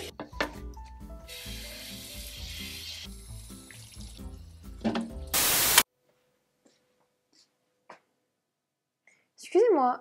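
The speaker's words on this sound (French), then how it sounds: "Ah, ce robinet, qu'est-ce que je l'aime." Kitchen faucet water runs into a sink during dishwashing and scrubbing, a steady loud rush and clatter for about six seconds that cuts off abruptly, then near silence with faint clinks and a brief voice at the end.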